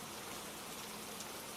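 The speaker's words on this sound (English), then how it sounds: "Rain tapped on the windows like ghostly fingers" Steady rain tapping on window glass, a continuous soft hiss of drops with no voices, kept at a low, even level throughout.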